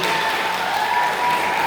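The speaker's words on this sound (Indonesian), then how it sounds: "tepuk tangan untuk Calvin" Audience applause for Calvin at a student election event at a pesantren, with steady dense clapping that runs the whole time at a fairly loud level.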